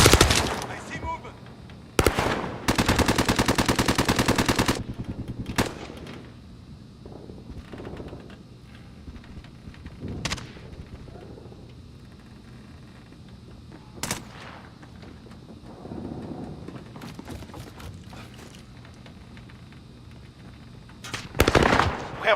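Automatic gunfire from Call of Duty Modern Warfare 2019 rattles in a dense, loud burst early on, followed by scattered single shots and short bursts, then another close volley at the end, with game voice lines over the combat.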